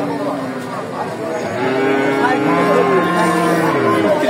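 Cattle lowing at a Bogura livestock market, with long sustained moos rising over a busy crowd; several overlapping calls build toward the end, near and loud, with people talking in the background.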